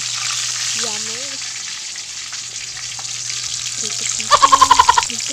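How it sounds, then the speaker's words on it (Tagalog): Tilapia halves frying in a pan give a steady, close sizzle and crackle of hot oil, with a short run of clattering taps near the end. "Pinito ko yung tilapia."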